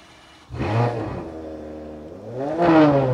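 A vintage car engine cranks and catches, revving up with a rising whine, settling briefly, then revving again loudly nearby.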